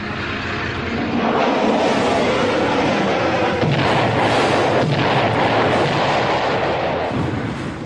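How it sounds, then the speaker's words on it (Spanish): Relentless Gulf War bombardment, a dense, continuous roar of explosions and artillery fire with heavy rumbling bursts and no clear gaps, loud and sustained throughout. "El incesante bombardeo duró 41 días"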